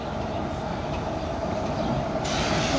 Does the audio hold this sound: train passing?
yes